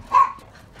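Dogs greet their owner arriving home with a short, close yelp or whimpering bark, a single brief burst standing alone.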